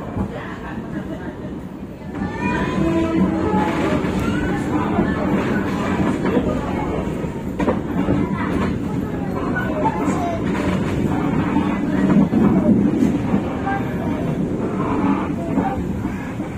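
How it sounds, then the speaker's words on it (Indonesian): A CC203 diesel locomotive train rolls past at a station in Surabaya with a continuous rumble and rail clatter, loud and close, while a person talks over it throughout. "Nah, terdengar dari klaksonnya, ini kayaknya lokomotif CC203 palsu atau CC2018348 yang kabinnya miring."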